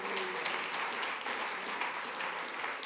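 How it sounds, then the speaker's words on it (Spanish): A church congregation applauds at a Spanish-language service, a dense, steady patter of many hands clapping together at an even level throughout. "Dele un fuerte aplauso al Señor Jesús."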